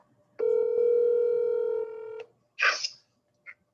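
Telephone keypad dialing: one long steady multi-tone beep with a second tone layered in, then a short burst and a faint final blip, heard clearly with no talking.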